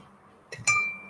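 A glass of water is set down with a single bright clink and a brief ringing tone, heard close in a quiet room.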